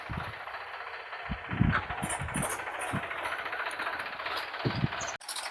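A tractor engine chugs steadily at a moderate distance while trolleys are loaded with cow dung, with irregular knocks and thumps over the continuous rumble.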